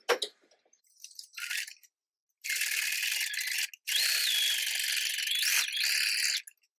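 A sewing machine stitches a tight, narrow zigzag, with brief clicks first and then two long, loud bursts of fast whirring stitching separated by a short pause.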